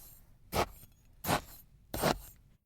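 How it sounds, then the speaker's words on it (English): Three gritty, crunchy scrapes sound as a spade digs into beach sand to fill a bucket for sandcastles, evenly spaced and close up with quiet gaps between, with no talking. "It's the sound of digging sand with a bucket and spade to make sandcastles."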